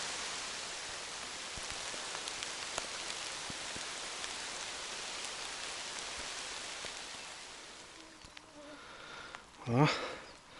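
Steady rain patters in the taiga as a soft, even hiss that fades gradually toward the end, broken by a brief louder rustle close by.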